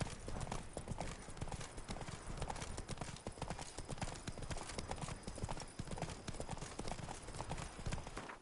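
Geralt's horse Roach trotting in The Witcher 3, a steady rhythmic clip-clop of hooves close up and continuous throughout, with a faint whinny-like sound in the mix.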